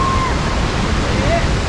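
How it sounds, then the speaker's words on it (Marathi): Rain and the Dudhsagar waterfall make a loud, steady roar of rushing water that fills every moment, heard from close at the base of the falls. "मी आहे दूधसागर धबधब्याच्या पायथ्याशी"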